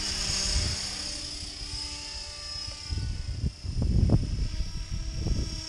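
A class 500 radio-controlled model helicopter flies overhead, its high turbine-like whine steady while rotor chop swells and fades at moderate distance, growing louder toward the end.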